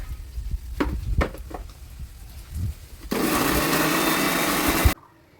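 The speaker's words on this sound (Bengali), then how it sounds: "এটাকেও দিয়ে দিব মিক্সিতে। সব একসঙ্গে এখন পেস্ট করে নেব।" An electric mixer grinder blending fried ginger, onion, cumin and coriander into a paste, a steady loud whirring burst lasting about two seconds after some clattering and handling noises, then cutting off abruptly.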